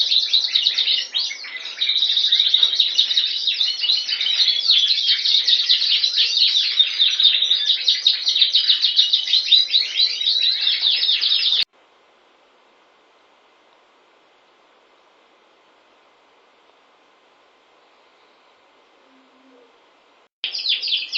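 A heavily variegated yellow-green Border canary cock, a national show champion, sings a loud, continuous rapid trilling song alone for about eleven seconds, falls silent, then starts again briefly at the end.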